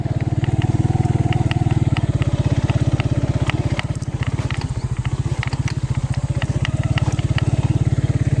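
A motorcycle engine idles and revs close by, a loud, throbbing rumble with rapid pulsing that continues throughout.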